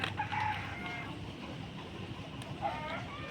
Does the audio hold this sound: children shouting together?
no